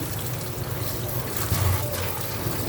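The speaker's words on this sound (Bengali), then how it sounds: "এখানে সালাদের জন্য টমেটো শসা ধুয়ে নিচ্ছি" Tomatoes and cucumbers are washed in water for a salad, with soft splashing and trickling close by and a faint murmur of voices in the background.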